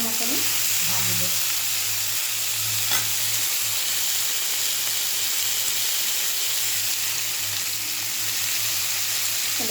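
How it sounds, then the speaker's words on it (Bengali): Food fries lightly in a pan with a steady, dense sizzle and hiss that holds throughout, fairly loud and close, with a faint low hum underneath and an occasional soft clink. "বেশি একটা ভাজবো না, হালকা মতনই ভাজবো।"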